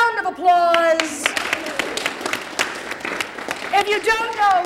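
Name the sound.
workshop audience applause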